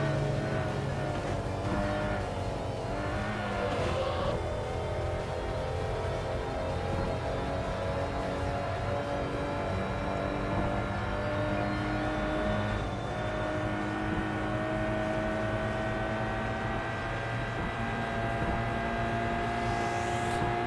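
Steady engine drone of a car in the Import Tuner Challenge racing game, a continuous tonal hum with layered harmonics held at an even level throughout, with no pauses.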